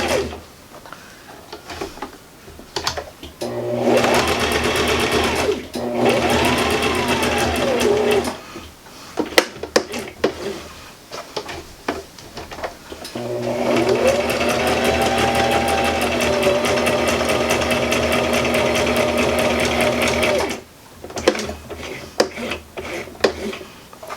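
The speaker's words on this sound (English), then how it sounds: "So you just very slowly sew along the edge like this." A sewing machine stitches slowly along the edge of cloth for reusable cloth pads, its rapid mechanical whirr coming in two long, close bursts separated by short pauses filled with small clicks and handling noises.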